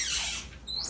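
A cheap Chinese door hinge gives one short high squeak as the door swings, faint and close, followed by quiet.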